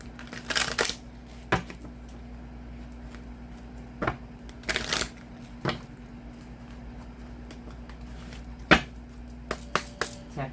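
A deck of oracle cards being shuffled in short, separate bursts of crisp riffling and tapping, close up, with quiet pauses between them and no talking.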